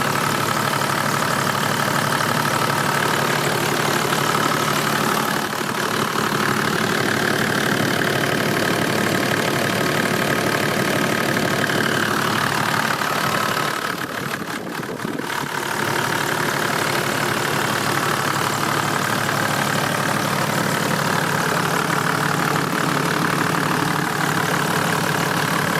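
A 4.2 litre 1HD inline-six turbo diesel in a Toyota Land Cruiser VX idles steadily and loudly up close, a continuous low rumble with a light knocking texture and a brief dip midway.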